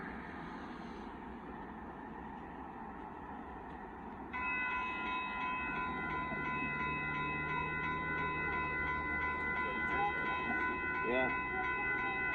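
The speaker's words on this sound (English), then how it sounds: "Amtrak Texas Eagle 21, leading 63, going in the side for a Union Pacific gravel train" Southbound Amtrak Texas Eagle 21 passenger train, led by locomotive 63, rolling past a crossing at Dittmar Road in Austin, Texas; a steady loud rumble with sustained horn-like tones entering partway, and a brief spoken word.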